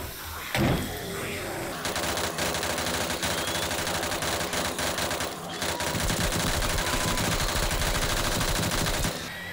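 AK rifle and shotgun fire in the 7 Days To Die video game, loud sustained rapid bursts of gunfire with a brief break partway through.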